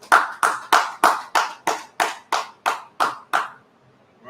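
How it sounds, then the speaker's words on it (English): An audience claps in about ten sharp, evenly spaced bursts of applause, loud and close, before the sound stops into near silence. "Clap it up."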